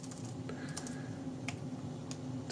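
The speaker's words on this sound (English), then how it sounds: "So I'm typing over here." Quick, light keystrokes on a Chesona wireless backlit keyboard, a few soft clicks spaced unevenly over a low steady hum, close and fairly quiet.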